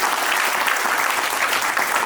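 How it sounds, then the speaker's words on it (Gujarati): Audience clapping at a student award ceremony of a Sandhi Muslim community in Rajkot, a continuous even wash of many hands applauding together, steady and fairly loud with no voices over it. "તાળીઓ બનના રહેવી જોઈએ."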